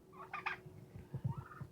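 A Bourbon Red turkey tom, about two years old, lets out a quick rattling gobble, a short burst of rapid guttural pulses heard close and alone.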